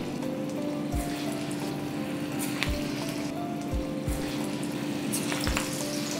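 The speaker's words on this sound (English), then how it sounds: "So, now we start frying." Moong sprout pakora batter frying in hot oil, a continuous close sizzle with occasional soft pops and drops as pieces go in.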